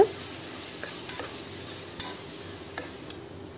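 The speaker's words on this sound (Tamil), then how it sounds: "தேவையான சால்ட் ஆட் பண்ணி நல்லா வதக்கிக்கோங்க" Onions and tomatoes with salt sautéing in a pan for mutton curry, a constant low sizzle broken by light stirring taps and scrapes, close by with no talk.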